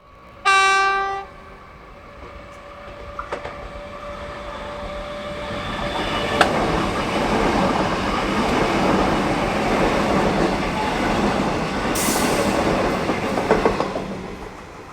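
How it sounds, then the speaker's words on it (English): A pair of EDI Comeng electric multiple-unit trains approaches Moonee Ponds station with a loud horn blast at the start, then a rising rumble and rail clatter that builds as the trains near, with a short high squeal near the end. "this scene with a pair of EDI Comenge EMUs approaching Mooney Ponds, recorded in June 2024"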